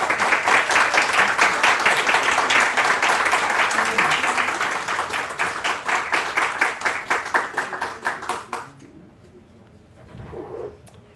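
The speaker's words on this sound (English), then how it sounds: "let's welcome Nancy with a warm round of applause" A room full of people gives warm applause welcoming a speaker to a wellness talk, loud and sustained clapping that thins into a few final claps, then fades into near quiet with faint stirring.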